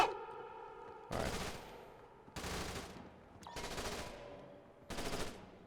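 Gunfire in Splinter Cell: Conviction comes as four loud bursts of rapid shots, each lasting about half a second to a second, with short quiet gaps between them.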